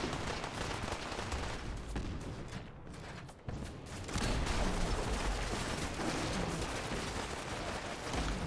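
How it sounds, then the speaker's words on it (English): Heavy gunfire from well-armed guards fighting in Fallout 4, a dense, continuous barrage of overlapping shots and blasts that fills the whole stretch at close range, with a brief dip in the middle before it surges louder again. "Just all the fire from all my well-armed guards"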